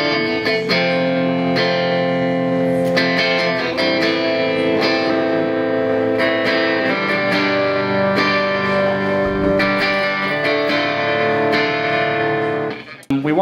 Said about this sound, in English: which is just running through a very light overdrive pedal